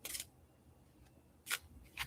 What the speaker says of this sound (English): I have to shuffle so many times.